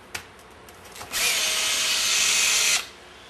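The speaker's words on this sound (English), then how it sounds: "Make sure that I have my drill on the slow speed." A power drill set to slow speed spins a shaft during a step-by-step rebuild of a Meyer E 47, giving one steady, close whir of about a second and a half that starts and stops sharply after a faint click.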